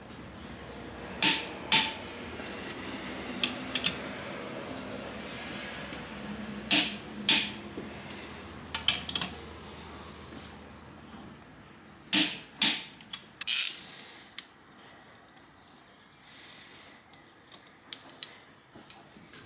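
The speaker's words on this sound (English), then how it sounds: "ARP recommend I torque in 3 equal increments to 70 foot-pound and then 37 on the smaller ones" A torque wrench tightens ARP bolts to 70 foot-pounds in an engine rebuild, giving scattered sharp ratcheting ticks and clicks in short bursts, close up against a quiet workshop background.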